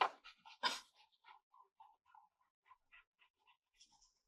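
A dog in a hallway pants and whimpers with quick, sharp breaths, a few louder bursts at first, then a soft, irregular series of short huffs and whines close by.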